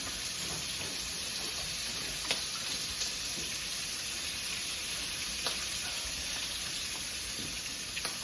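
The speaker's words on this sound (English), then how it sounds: "the sizzling sounds good" Sausage meat sizzles in a pan with a steady hissing crackle and occasional sharper pops, close and moderately loud, with no voices over it.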